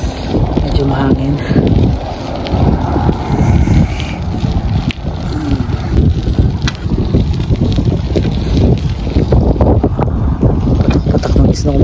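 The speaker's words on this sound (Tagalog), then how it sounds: "Medyo mahangin." Strong wind buffets the microphone outdoors, a loud, continuous roaring rumble with gusty swells lasting the whole time, and a voice is briefly audible beneath it.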